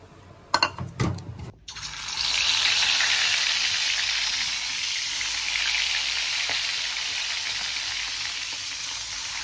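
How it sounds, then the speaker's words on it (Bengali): Prawns fry crisp in a pan with a loud, continuous, close sizzle of hot oil. A few sharp utensil knocks open the sound, and no one speaks. "চিংড়ি মাছগুলোকে একদম কড়া কড়া করে ভেজেছে"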